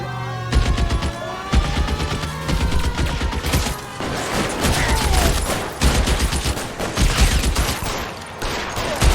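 Rapid gunfire rings out in a video game shootout, with dense bursts of shots and volleys repeating loudly and almost continuously throughout.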